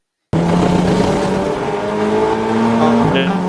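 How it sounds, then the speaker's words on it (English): Race cars, a BMW, an Audi R8 and an Audi RS3 TCR, roar around the Snetterton 300 circuit. Engine drone starts abruptly, close and loud, with pitch sliding through gear changes. "The BMW and Audi R8, Audi RS3 TCR behind."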